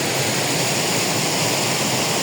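A clear, cold river stream runs at Tubig Dako spring in Antequera, Bohol, in the Philippines. The water makes a loud, unbroken rushing wash close by, with no voices.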